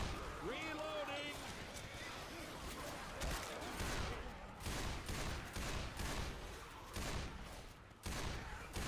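Gunfire from a zombie shooter video game, a broken gun firing in dense repeated bursts with shouting voices over a busy in-game mix.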